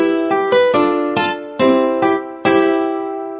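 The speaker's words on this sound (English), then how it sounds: "A guitar sounds like this." Guitar notes from a Disney Mickey Mouse video game, a series of plucked tones with clear ringing decay played in a steady, evenly spaced sequence, loud and close with no talk.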